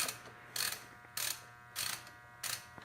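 A ratchet clicks in four evenly spaced bursts while removing a Mazda 6 rear motor mount. Each burst is a short, bright run of clicks, close and alone.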